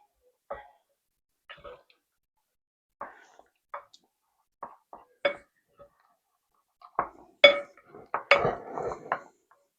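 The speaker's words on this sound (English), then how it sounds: "Now you just give this a really good stir." Chicken salad mixture being stirred in a bowl: scattered soft clinks and scrapes of a utensil against the bowl, sparse at first and then busier and louder toward the end, heard up close.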